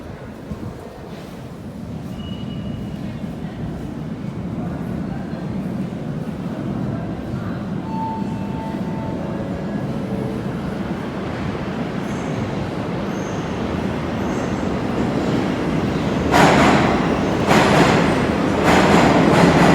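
A Moscow Metro train rumbles steadily at close range near Prospekt Mira station, its roar growing louder toward the end with bursts of rushing noise as it moves along the track.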